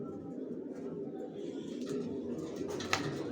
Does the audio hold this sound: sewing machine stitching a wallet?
no